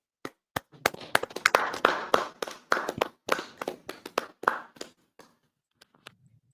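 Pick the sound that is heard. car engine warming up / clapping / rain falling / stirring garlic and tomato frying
clapping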